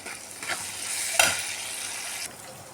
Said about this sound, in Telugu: ఇప్పుడు మునగాకు వేసి మంచిగా ఆయిల్లో ఫ్రై చేసుకుందామండి